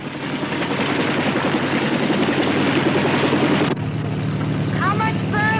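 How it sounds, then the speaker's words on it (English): An Army helicopter carrying doctors to Las Vegas chops steadily and loudly with a rhythmic rotor beat, while a short burst of higher chirping sounds rises over it near the end. "The Army is rushing 2 doctors to Las Vegas by way of helicopter"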